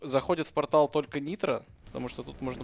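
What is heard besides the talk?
No everyday noises stand out.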